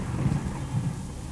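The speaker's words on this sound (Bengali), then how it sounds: "সেদিনও বোধহয় এমনই বৃষ্টি হচ্ছিল, একটানা ঝমঝম শব্দ" Heavy, steady rain pours with low rumbling thunder swelling twice, a dense continuous wash of sound with no voices, used as a suspense audio-story effect.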